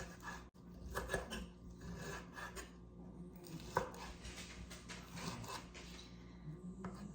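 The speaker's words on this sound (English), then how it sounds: "So what I'm doing is just chopping them literally into bite-sized pieces." Repeated knife strokes chopping chicken gizzards into bite-sized pieces on a board, close and steady with scraping between cuts, no talking.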